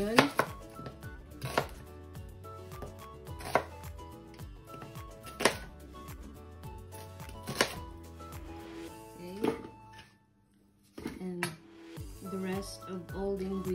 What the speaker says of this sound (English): so first we're gonna cut our onion.